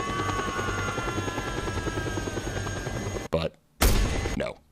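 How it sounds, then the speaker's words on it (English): Helicopter in the video game Just Cause 2, a steady close rotor chop and engine whine, broken near the end by a brief cutout and a sharp loud burst. "The guy blew up my bike, so I stole his chopper."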